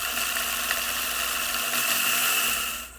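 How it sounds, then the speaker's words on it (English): Electric grinder whirring steadily as it grinds toasted rice, a loud continuous motor drone with a high whine that holds for about three seconds and tapers off at the end. "Then put in the grinder."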